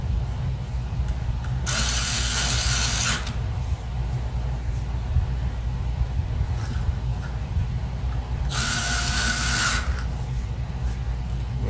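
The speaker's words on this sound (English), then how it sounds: "These screws don't have to be super tight just to hold everything in place." Screwdriver tightening screws on a hard drive inside an ASUS Transformer Flip TP500L laptop during an SSD upgrade, giving two bursts of close ratcheting clicks over a steady low hum.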